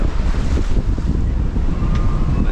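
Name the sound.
sea waves building around a sailing boat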